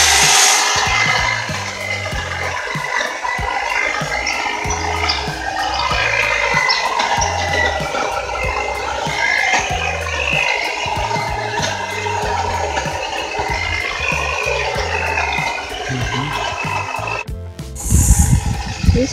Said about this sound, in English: He's just trimming the hedges.